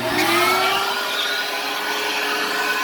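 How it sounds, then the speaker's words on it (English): A vacuum motor whines steadily at full power, a loud, constant mechanical drone with a high whir on top. "So if I turn on my vacuum,"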